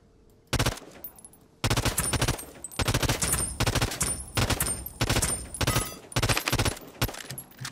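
Automatic weapon fire in the Realm Royale video game, loud rapid bursts separated by short gaps, starting after a quiet moment and repeating about six times.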